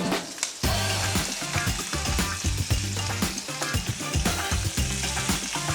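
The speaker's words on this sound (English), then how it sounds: "So now the oil's nice and hot, onion goes in. Then we're gonna add the sambal paste." Onion and sambal paste hit hot oil with a loud, crackling sizzle that stays dense and busy throughout, with stirring and spattering bursts on top.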